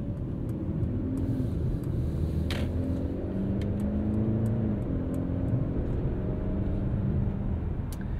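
A 2022 Mercedes-Benz C300 4MATIC sedan with a mild hybrid engine pulls out onto the road, heard from inside as a steady low engine hum with gentle rising revs, plus faint regular ticking over the top.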